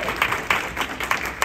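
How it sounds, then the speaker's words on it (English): A chamber of commerce panel audience clapping, a modest round of scattered hand claps with voices mixed in. "Let's give her a round of applause"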